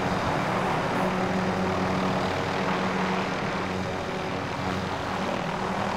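Helicopter engine in the video game Warzone, a steady dense whirring roar that holds constant throughout with no breaks, no talk over it.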